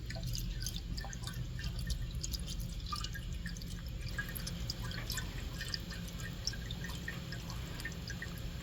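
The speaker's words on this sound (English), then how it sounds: "Just add antifreeze directly" Antifreeze drips and trickles into the radiator of a 2003 Acura TL, a faint, irregular patter of small drops over a low background hum.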